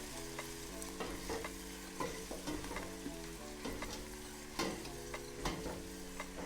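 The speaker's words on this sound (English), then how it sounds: "I will allow the onion to caramelize." Onion caramelizes in a hot pan while being stirred for coconut rice. A steady close sizzle runs throughout, with spoon scrapes and clicks at irregular intervals and a faint tonal hum underneath.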